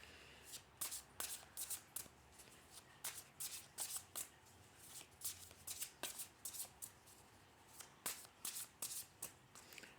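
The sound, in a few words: shuffling tarot cards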